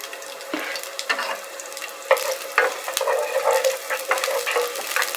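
Shallots sizzle in a hot pan while being stirred, a soft steady frying hiss with bursts of scraping and clinking from the utensil, close and alone.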